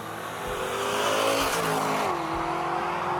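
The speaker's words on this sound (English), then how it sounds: "that genuine V8, the exhaust draw, the induction" A genuine V8 car engine is revved hard at full throttle, its exhaust and induction roaring loud and close, with the pitch climbing and then shifting as it pulls on through the run.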